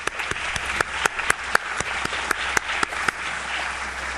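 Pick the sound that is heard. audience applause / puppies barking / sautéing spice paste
audience applause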